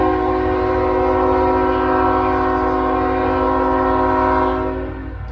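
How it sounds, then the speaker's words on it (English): An eastbound CSX mixed freight train's horn blares loudly and steadily over the rumble of rolling cars near Bellevue, Ohio, close by, then cuts off as the rumble continues. "we have a CSX train coming here. Eastbound. Mixed freight train."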